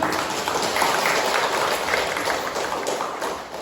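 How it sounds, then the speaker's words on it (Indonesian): A village audience at a virgin coconut oil outreach session in Soropia claps together, a dense, even wash of applause that holds steady and tapers slightly at the end. "Kita beri dulu tepuk tangan yang meriah"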